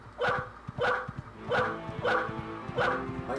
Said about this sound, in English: I can listen to that bark all day.